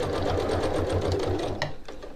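A home sewing machine stitches the side seam of a reversible tote bag in a steady, close, rapid pulsing run that slows and stops near the end.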